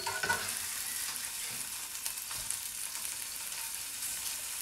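Small appetizer toasts sizzling and frying in a hot pan just after being flipped, a steady crackling hiss with a few sharper pops near the start, close and continuous.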